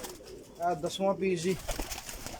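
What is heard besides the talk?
pigeons cooing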